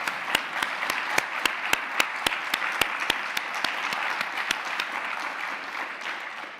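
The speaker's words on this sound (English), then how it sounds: "a round of applause" Audience applause at a university faculty lecture event, sharp evenly spaced claps at first that soften into a sustained, moderately loud patter, with no one speaking.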